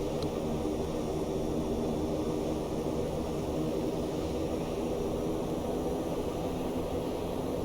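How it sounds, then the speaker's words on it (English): A loud, steady roar of Fairchild Metro II engines in reverse thrust after landing in X-Plane 11 runs unbroken throughout, a constant broadband rush with no pauses and no voices. "So I'll increase my reverse more to slow the airplane down."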